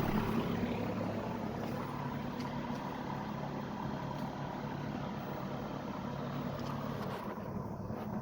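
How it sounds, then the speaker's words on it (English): A lawn mower converted to electric power runs with a steady, tractor-like drone, a continuous mid-level hum throughout with no pauses and no voices. "Sounds like a tractor now."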